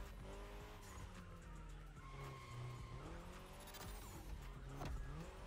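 A Mini racing in The Crew Motorfest game brakes and skids, with engine tones shifting and tires squealing in repeated bursts under continuous game audio.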